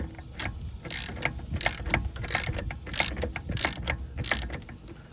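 A hand ratchet clicks in rapid bursts while tightening a nut on a Ford Ranger's power brake booster, several close, rhythmic strokes with brief pauses between them.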